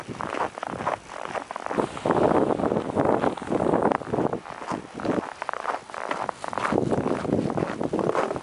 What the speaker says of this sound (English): The wind makes a rattling sound.